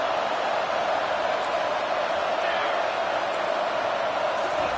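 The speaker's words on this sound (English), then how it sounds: "this crowd trying to help keep them there" Stadium crowd at a football game producing a dense, continuous roar of cheering and noise, loud and sustained without letup.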